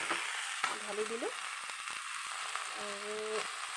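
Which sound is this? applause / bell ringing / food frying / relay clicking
food frying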